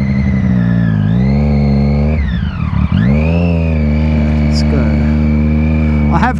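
A Triumph Daytona 675R sport motorcycle engine hums loud and close, with the pitch dipping and climbing through a rev change before settling into a steady drone.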